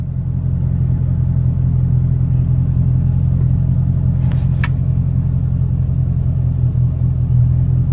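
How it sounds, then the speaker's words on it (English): Engine of a 2019 Dodge Charger Scat Pack held at steady revs on launch control, producing a loud, unbroken low rumble with a brief faint squeak partway through. "launch control says to launch, press brake and apply full throttle"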